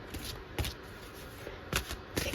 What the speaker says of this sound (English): Gotta keep shuffling.